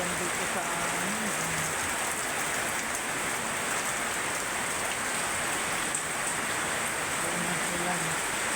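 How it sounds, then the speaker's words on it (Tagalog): Heavy rain pours down steadily in a Filipino neighborhood, a dense continuous hiss filling the whole stretch at close range, with a faint murmur of voices now and then underneath. "ulan ng ulan dito sa amin."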